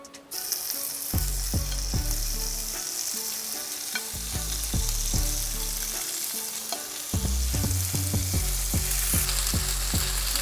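Rack of lamb searing in an oiled cast iron pan, a loud continuous sizzle with repeated sharp scraping and tapping sounds throughout.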